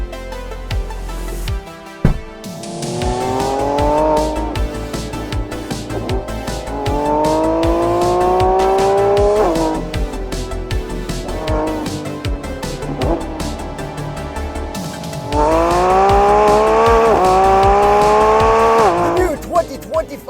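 A 2024 Lamborghini Revuelto supercar accelerates hard in three loud, close surges, each engine note climbing steeply through the gears before cutting off, with a brief gap between pulls.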